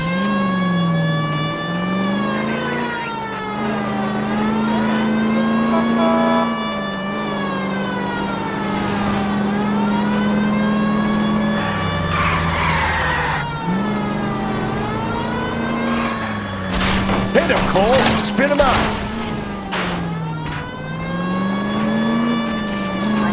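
Car engine in L.A. Noire droning steadily with rising and falling revs through gear shifts, loud and close, with a burst of clattering noise midway; no talk.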